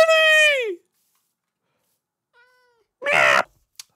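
A cat gives a loud, clear meow close by, then a short faint one and a harsher, noisier cry a few seconds later, with silence between.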